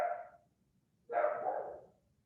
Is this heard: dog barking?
yes